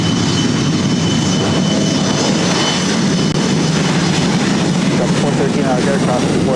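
A jet airliner near the runway at LAX, a loud, continuous roaring engine rumble that stays steady from start to finish, with radio chatter from air traffic control heard beneath it.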